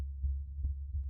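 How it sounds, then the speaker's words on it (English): Slow, deep heartbeat thuds with a low throbbing hum beneath, a few soft beats within about a second, close and steady with no voices. "I could hear Paulina's heart beating."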